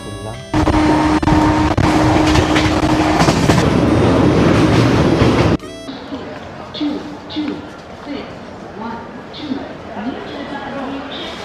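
The 22612 NJP–Chennai Express rolls through near Asansol with a loud, steady roar and rumble inside the coach. It then drops to a quieter rhythmic clatter of wheels with faint background voices.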